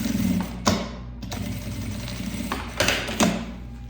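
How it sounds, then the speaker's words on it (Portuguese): A sewing machine stitches a seam on a small round bag, running in short bursts of steady whirring stitches with brief pauses and clicks, close and fairly quiet. "faço uma costura com um pé de máquina"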